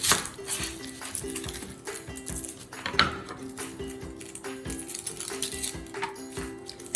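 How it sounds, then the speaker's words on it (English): A knife cuts through an onion on a cutting board, trimming off the root end and then quartering it, giving a string of close, sharp knocks and clicks at an irregular pace. "I'm gonna take my onion, cut the bottom part off, and I'm gonna cut it in quarters"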